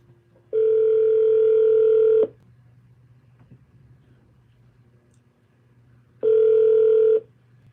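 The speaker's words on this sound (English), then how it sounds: "Alexa, call Cheryl Self Mobile. Calling Cheryl Self's mobile" An outgoing phone call placed through an Alexa smart speaker rings back twice, each a loud steady tone lasting about a second and a half to two seconds, separated by a few seconds of quiet line hiss.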